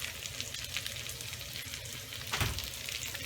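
Leftover baked potato with seasoning salt and garlic powder browning in a hot pan. A steady, close sizzle runs throughout, with one brief scrape of stirring partway through.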